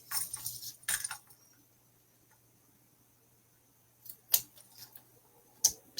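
Scissors snip through craft material for a card base in a few crisp, close cuts, a short burst at the start and two sharp snips near the end with quiet in between.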